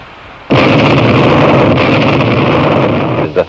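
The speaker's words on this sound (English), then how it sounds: "A moving shock wave is what you hear when there is an explosion." An explosion sets off a sudden loud roaring blast that stays dense and rumbling for about three seconds before a brief final pop.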